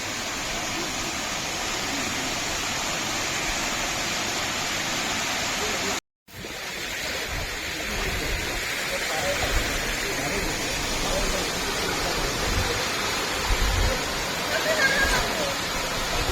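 Vengathanam waterfall in Kottayam, running with reduced water, gives a steady broadband rush of falling water close by. Voices can be heard under it, and a brief dropout occurs partway through.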